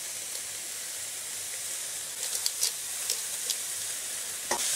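Steady hissing sizzle of chicken stir-frying in hot oil over high heat, with scattered sharp pops and crackles from stirring, close by and without speech.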